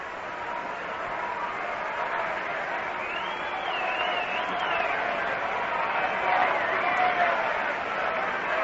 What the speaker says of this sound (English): The crowd starting a rhythmic chant of "We want to hit."